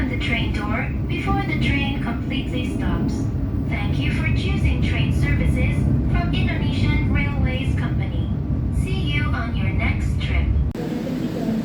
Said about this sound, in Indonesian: kereta api Ranggajati sudah tiba di stasiun Kroya